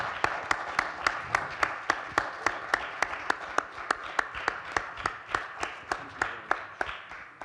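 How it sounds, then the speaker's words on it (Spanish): A conference audience applauds a speaker, Dr. Malone, with a slow, rhythmic, evenly spaced clap, sharp and regular, sustained for several seconds over a faint background wash. "Un aplauso, por favor, para el doctor Malone."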